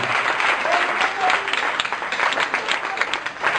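A church congregation applauds and cheers for Jesus, with continuous dense clapping and voices mixed in, loud and close throughout.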